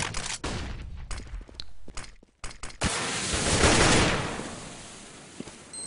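Rapid automatic gunfire sprays in bursts during a competitive Counter-Strike match, with sharp cracks early on, then a dense, loud wash of shooting and explosions filling the last half, no voices.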